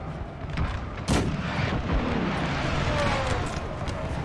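Napoleonic cannon fire in Napoleon Total War with a large-battle mod, one loud booming shot early followed by a rolling battlefield din and scattered distant reports.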